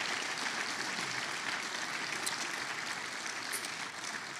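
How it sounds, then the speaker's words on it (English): A church audience gives sustained applause for a Father's Day guest, a broad even wash of clapping that holds at a steady moderate level from start to finish with no voices over it. "would you give Doug a round of applause and thank him for being here?"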